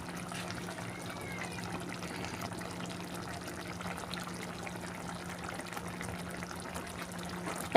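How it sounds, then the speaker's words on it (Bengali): Rui fish rezala curry, finished with ghee, is poured from the cooking pan into a serving dish, giving a soft, steady liquid trickle and slosh that runs evenly throughout with a low background hum. "একদম কমপ্লিট এবার আমি ঢেলে নেব"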